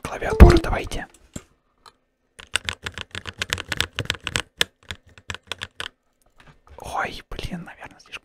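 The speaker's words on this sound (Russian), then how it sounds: "можем послушать новые кнопочки клавиатуры" Close, crisp clicking of keyboard keys in irregular bursts, bracketed by soft whispered speech at the start and end.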